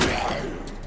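A single loud gunshot in Resident Evil 2, a sharp crack followed by a ringing tail that fades over about a second.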